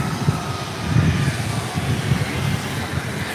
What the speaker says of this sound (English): ABX Air Flight 480 departing to Cincinnati on 7 left